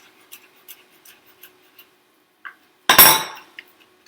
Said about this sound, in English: Put your tip of your knife on your cutting board